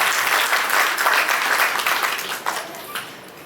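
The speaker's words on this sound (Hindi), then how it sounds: "सभी के लिए एक बार जोरदार तालियां" A crowd at the Rajasthan Karmveer Award 2024 ceremony claps loudly and steadily for medical, education, excise and police department staff standing on stage, the dense applause tapering off near the end.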